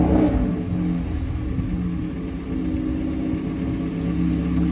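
Turbocharged Honda Civic with a 2.5-inch exhaust idling and revving nearby, a steady deep rumble with a mild rise in engine note, no voices.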